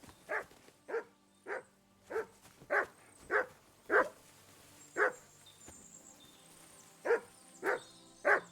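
Mutt the dog in Kingdom Come Deliverance II gives a rhythmic series of about a dozen short whining barks and yips, evenly spaced and fairly close, with faint game ambience beneath.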